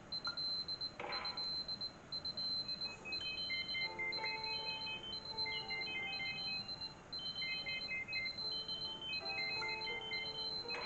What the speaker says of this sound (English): That's a lot of alarms.